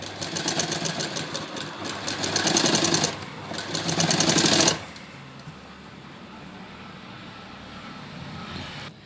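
Sewing machine stitching box-pleat skirt fabric, a rapid close mechanical rattle in two bursts for about four and a half seconds, then stopping to a quiet room hum.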